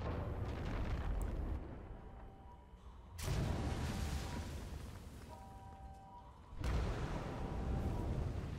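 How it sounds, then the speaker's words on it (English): Repeated heavy booms and rumbling blasts roll through, with sustained roaring between the bursts, from explosions in the video game Far Cry 5. "Look at all these explosions."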